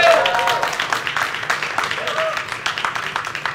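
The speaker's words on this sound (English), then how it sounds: "we want to give a huge round of applause again to our partners at Orange" Audience applause at a Xiaomi product launch at MWC in Barcelona, Spain: a dense, steady wash of many hands clapping that holds throughout, with a speaking voice heard over it.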